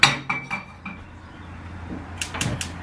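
Small 5-inch frying pan handled in a kitchen, giving a sharp metallic clank, a few lighter knocks and then a cluster of bright clinks near the end, close and fairly faint.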